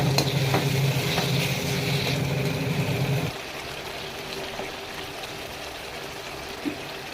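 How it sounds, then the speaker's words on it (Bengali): Chicken being stirred and fried in oil for a chicken laal jhol, with a loud, steady sizzle and scraping stirs for about three seconds before the frying drops to a quieter, softer crackle. "ভালো করে নাড়াচাড়া করে ভাজা ভাজা করতে হবে তেল ছাড়া অবধি।"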